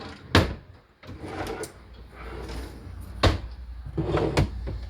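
A kitchen drawer is pulled open and rummaged through while a bloomin' onion is being made, giving sharp wooden clunks and rattling knocks spread over several seconds, close and fairly loud.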